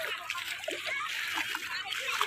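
People splash and slosh through shallow, cold river water as a group wades across on foot, with steady broadband splatter and scattered children's voices talking over it.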